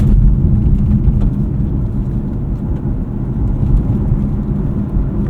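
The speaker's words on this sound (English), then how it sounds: "Very loud over potholes on these 21-inch wheels with barely any sidewall" A 2024 BMW 530i xDrive sedan on 21-inch wheels with low-profile tires rolls over potholes, giving loud, constant low road rumble with dull thumps and booms coming into the cabin.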